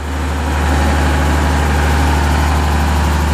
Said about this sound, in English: so what we got is Unimog, and we're running out of number 1 hydraulics.